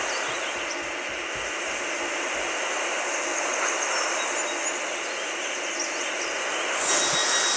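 Class 142 train running as an extra shuttle to Peterborough, a steady loud roar of the passing railcar with rumbling wheels throughout, close by, no voices.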